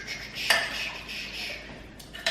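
Food stirred in a bowl before going into a crock pot, a spoon scraping and clinking against the side in a few strokes, near and moderately quiet, with no voices.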